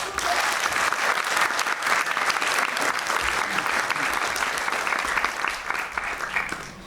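Theatre audience applause at the Shusha State Musical Drama Theatre: a full, sustained round of clapping from a large crowd, loud and continuous throughout, tapering slightly at the very end.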